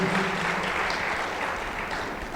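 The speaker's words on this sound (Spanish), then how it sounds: "¿No le das un aplauso al Señor por eso?" A church congregation applauds steadily during a Spanish-language worship service of praise and gratitude, dense clapping throughout with a faint voice or tone at the very start.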